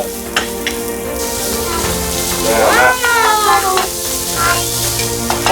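Minced pork sizzling and frying in a pan while making pork spaghetti, a steady close hiss and crackle throughout, with occasional stirring scrapes and brief voice sounds mixed in.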